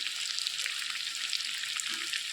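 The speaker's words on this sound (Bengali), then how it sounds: "সুন্দরভাবে কিন্তু কষিয়ে নিয়েছি ঝটপট করে মাটন রান্না" Mutton is sautéed in a pan with a steady, close, crackling sizzle of hot oil, continuous throughout with small bursts of spatter and a faint stirring scrape near the end.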